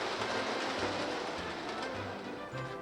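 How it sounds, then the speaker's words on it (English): A toy mail train runs along its track in a home kitchen, giving a steady, close clickety-clack rattle with faint low rumbles throughout. "I forgot to send the mail train on its way."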